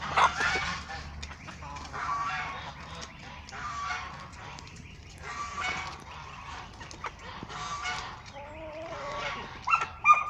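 Geese honking at a distance amid outdoor background noise, several scattered calls over ten seconds, fairly faint.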